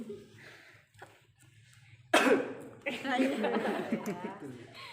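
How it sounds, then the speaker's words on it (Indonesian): A patient coughs a few times in rough bursts after inhaling during a nebulizer treatment, with talking and murmured voices around the coughing. "Tarik nafas langsung batuk."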